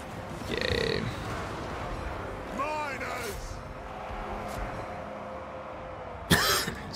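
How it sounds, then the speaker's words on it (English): A man coughs and clears his throat several times during a Total War Warhammer 2 session. The harsh bursts are close and mid-loud, with one sharp cough near the end over faint background noise. "There's going to be some coughing tonight, folks."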